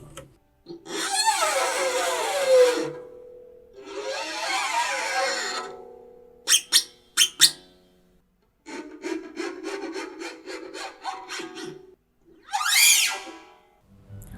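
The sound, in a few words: scraping technique played on an octavina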